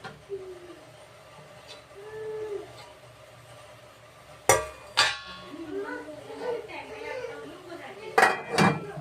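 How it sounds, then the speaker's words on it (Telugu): A metal lid goes onto a pot in a home kitchen during cheese making. It clatters sharply in two separate bursts, with soft bird cooing in the background. "ఇదిగోండి గిన్నె మూత వేస్తున్నాను."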